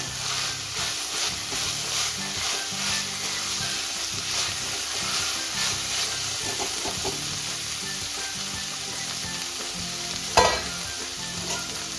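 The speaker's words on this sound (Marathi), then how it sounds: "या भाजीमध्येच अगदी व्यवस्थित असा कढीपत्ता परतून घ्यायचा आहे" Curry leaves sautéing in oil with a dry sprouted moth bean vegetable dish, a loud continuous sizzle and crackle with stirring scrapes throughout and a sharp knock near the end.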